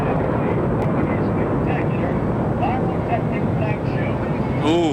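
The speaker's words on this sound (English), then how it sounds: "that last shot was that B-1 bomber that flew over" A B-1 bomber flying over during the Thunder Over Louisville air show, heard as a loud, sustained broadband jet roar that stays steady throughout, with a rising whine near the end and talk mixed in underneath.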